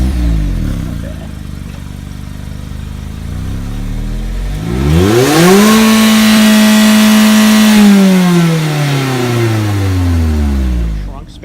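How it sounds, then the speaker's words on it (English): A Mazda Miata RF engine cranks and catches on a cold start, then revs up sharply and holds a high, rising exhaust note before settling back down, loud and close. "gonna get a little cold start and exhaust"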